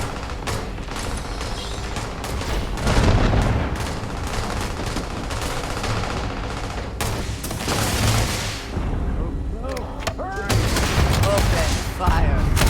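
Sustained bursts of gunfire in a Starfield space combat, dense rapid shots layered with booms and game music, loud and continuous throughout with occasional voices over it.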